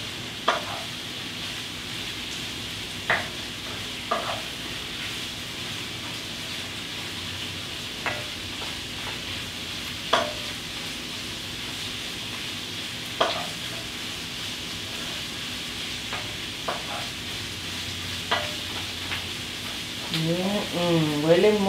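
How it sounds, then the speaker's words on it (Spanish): Swiss chard sautés with garlic and onion in a pan, a steady soft sizzle with occasional stirring scrapes and taps of a utensil, close and continuous. "voy a citronar un poco la acelga con el ajo"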